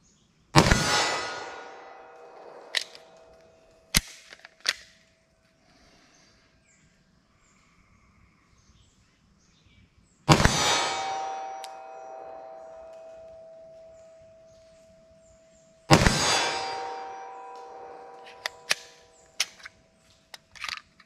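Three loud, ringing pistol shots fired at long intervals from a handgun chambered in 10mm, .357 or .44 Magnum, each followed by metallic clinks and clatter as the gun jams, with no voices.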